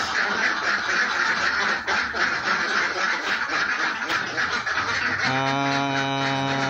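Egg-laying ducks on a farm quack in a busy, continuous chorus of overlapping calls, ending with a sustained tonal note that rises above the flock.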